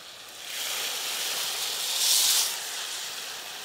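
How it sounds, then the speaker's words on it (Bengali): Sugar syrup for jalebi boiling in a pan, a steady close hiss of bubbling and steam that swells briefly in the middle, with no talking. "জলটা বেশি করে দিয়েছি, চিনি দিয়ে একটু ফুটিয়ে ফুটিয়ে সিরাপটা ঘন করব।"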